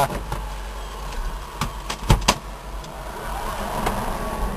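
An electric car coasts quietly off the accelerator with a low, steady road and tire hum, no engine roar, and a few faint clicks and knocks inside the cabin.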